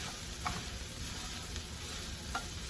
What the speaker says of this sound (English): What we're doing is just cooking the sofrito a little bit and also cooking the fresh garlic.